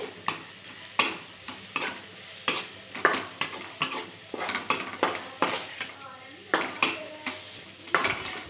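Bitter gourd fries in a pan over a low flame, a soft sizzle beneath a rapid series of sharp metallic spatula scrapes and taps against the pan.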